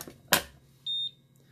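A soft click is followed by a single short, high electronic beep from a Quest Q2 NiCd/NiMH smart battery charger signalling charging is done, then quiet.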